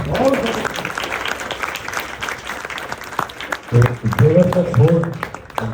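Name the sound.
theater audience applause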